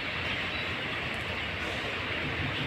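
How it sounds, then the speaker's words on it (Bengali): The Madhumati Express leaves platform 3 of Rajshahi railway station bound for Dhaka, a dense, constant rolling roar of the moving train that holds steady and loud from start to end. "ওই যে মধুমতি এক্সপ্রেস ট্রেনটা ছেড়ে যাচ্ছে"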